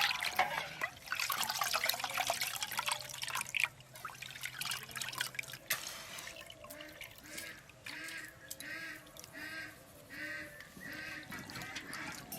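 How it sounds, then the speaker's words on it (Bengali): Broken rice (khud) being washed by hand in water, with continuous sloshing and swirling followed by a rhythmic series of splashy strokes, close and moderately loud, with geese or ducks honking faintly in the background. "খুদটা আমি এইভাবে ধুয়ে নেবো যাতে বালিটা না থাকে"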